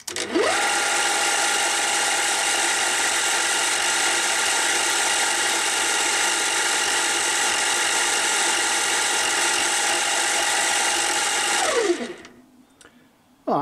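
An EMCO FB2 milling machine with a 3D-printed replacement gear whirs at its top speed of 2000 rpm with a dense, steady mechanical whine, spinning up quickly and winding down near the end.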